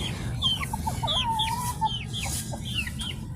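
Chickens, including a black hen, a brown hen, a white hen and a rooster, cluck and chatter continuously at close range while being fed leftover rice, overlapping calls over a steady low background noise.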